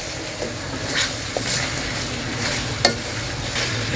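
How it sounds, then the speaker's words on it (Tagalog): Chicken curry with oyster sauce and a splash of syrup is stirred in a pan, the steady sizzle and hiss of frying running throughout with occasional scrapes and clinks of the utensil. "Tapos, konting magic syrup. Tapos, mix po natin ito."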